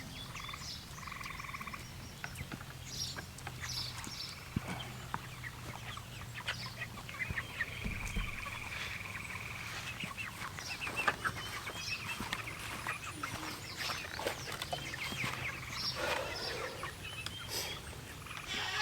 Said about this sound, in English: Just tell me when to unleash the chickens.